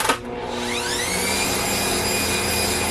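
Electric mixer on its highest setting, creaming batter for whole-grain oatmeal cream pies: a brief clunk, then a steady whining motor hum that rises in pitch as it spins up and holds loud and continuous.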